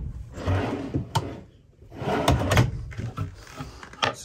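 A drawer slides open and shut inside a 2004 Chinook Destiny Class B+ motorhome, giving two rolling runs that end in sharp close knocks. The sounds are close and moderately loud, and nobody talks.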